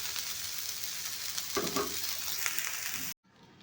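Food sizzles steadily in a hot pan in a North Karnataka village kitchen, frying until reddish; a continuous close crackle with a brief stirring scrape, then the sound abruptly cuts to quieter background.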